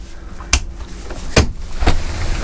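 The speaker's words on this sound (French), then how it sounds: "quand on ouvre la porte" Door opening in the cabin of a Nimbus 405 Coupé motor boat, heard as a few short clicks and thumps spread over a couple of seconds against a low background hum, with no talking.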